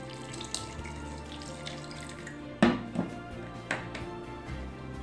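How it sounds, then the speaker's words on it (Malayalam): Water is poured into a pan of coconut-based Kerala fish curry with kudampuli and green chilli, a soft continuous trickle with a few splashes and clinks, faint and alone. "ഇനി നമുക്ക് കുറച്ച് വെള്ളം കൂടി ചേർത്ത്"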